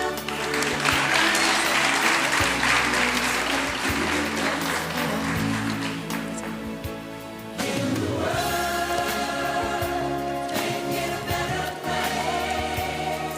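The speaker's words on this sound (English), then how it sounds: "Can we give them all another round of applause?" Sustained applause from a crowd at a school graduation ceremony for the Class of 2022 at Nevis Academy, dense and steady throughout with a brief dip partway before swelling again.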